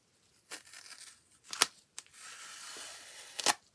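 Adhesive tape is pulled and torn off the roll while assembling the body of a Revell 1/25 1968 Dodge Charger R/T model kit, with several short ripping bursts and a longer crinkly pull, close and quiet.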